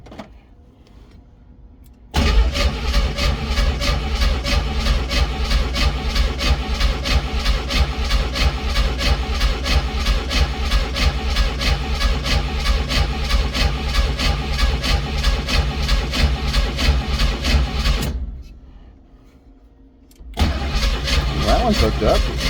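A Jeep engine, just reassembled, cranks and catches, then runs steadily at a loud, close idle for about sixteen seconds before cutting out briefly and restarting; people talk faintly around it.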